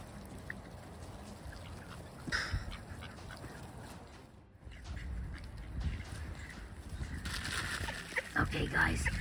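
Ducks quack up close over a steady outdoor wash of background noise, the calls moderately loud and scattered through the stretch.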